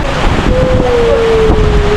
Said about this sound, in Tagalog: Grabe, oh, lakas ng hangin, oh.